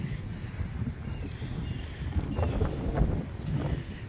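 Strong, gusty wind blows on a walk outdoors, rumbling against the microphone in uneven surges that grow rougher toward the middle and end.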